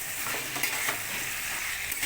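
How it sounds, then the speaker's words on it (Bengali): Boiled carrots, beans and potatoes fry with spices in a pan, giving a steady close sizzle with soft stirring scrapes throughout, no voices. "সেদ্ধ করে এবার মশলাটার সাথে এটা আমি ভালো করে ভাজা ভাজা করে নেবো"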